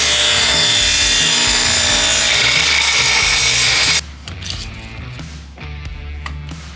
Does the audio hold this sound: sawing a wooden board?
yes